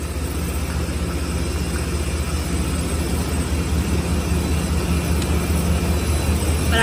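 Inside a fast passenger train moving through Taiwanese rice fields, a steady, loud rumble of running gear and wheels on track fills the whole stretch without a break.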